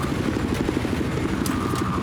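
A helicopter in the Battlefield 4 video game chops loudly and steadily with a dense rotor throb through the whole moment, with a couple of faint sharp clicks over it and no talking.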